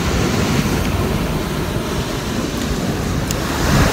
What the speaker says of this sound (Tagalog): Masarap lang pakinggan yung lagaslas ng tubig eh.